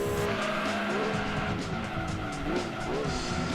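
Race cars in the Gran Turismo 2 video game, engines roaring loud and continuous with tires squealing and skidding through corners, pitch wavering as the pack jostles, with a faint voice underneath.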